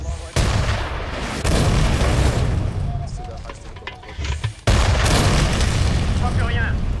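War film battle scene with dense gunfire and heavy booming explosions, loud continuous blasts and bursts with sudden surges, mixed under shouted French dialogue.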